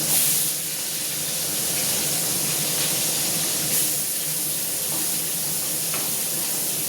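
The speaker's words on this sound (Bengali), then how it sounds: "তা তেলটা গরম হয়ে গেছে, দেখো এর মধ্যে মাছগুলো আমি ভেজে নেবো।" Fish fries in hot oil, a steady, close sizzling hiss that runs evenly throughout with no talking.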